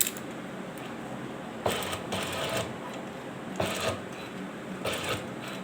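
A sewing machine stitches a two-piece collar over buckram in short bursts of whirring mechanical chatter that start and stop every couple of seconds, close by and with no voices.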